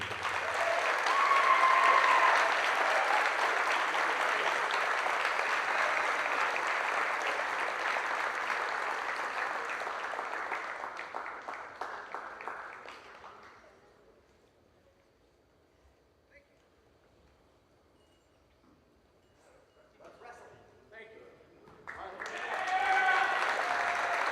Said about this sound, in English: Please give a round of applause for Coach Adrian Anderson.